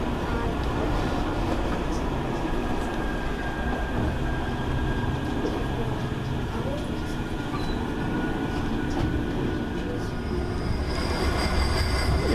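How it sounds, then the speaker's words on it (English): Manchester Metrolink trams rolling past on the line in a steady, loud rumble of wheels and track noise lasting throughout, with faint squeals near the end. "And we got a backlog of trams going here. 3036 that was, here's 3033 and 3032."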